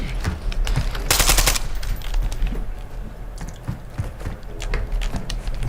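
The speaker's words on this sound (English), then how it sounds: "You are taking effective fire." Rapid automatic gunfire from Call of Duty Black Ops 7 Zombies rattles in loud bursts, with sharp mechanical clatter and dense overlapping shots that continue without pause.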